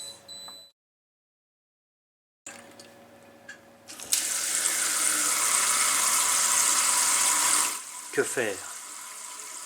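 A water tap is turned on and runs in a steady, loud hiss for several seconds before being shut off, preceded by a few small clicks. A voice speaks briefly at the start and again after the flow stops.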